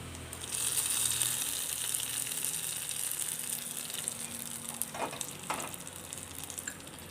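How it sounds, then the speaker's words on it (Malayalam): Hot fried tempering tipped into a jackfruit-seed and mango curry, a sustained sizzle that swells at first and then settles, with a couple of brief louder bursts near the end, close and alone. "മൂപ്പിച്ചത് ഈ കറിയിലേക്ക് ഒഴിച്ചു കൊടുക്കാം"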